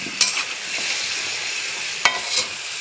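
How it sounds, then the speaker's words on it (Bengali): Mutton and potato pieces stir-fried in a large kadai give a steady close sizzle, broken by two sharp scraping clatters of the ladle against the pan. "আস্তে আস্তে মাংসটা আর আলুটা কষা হোক"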